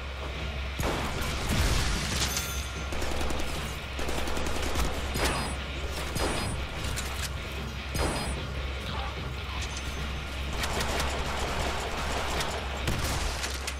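Shotgun blasts in the Deadpool video game go off in rapid succession, mixed with crashes and impacts over a constant low rumble. The bursts are loud and close and keep coming steadily throughout.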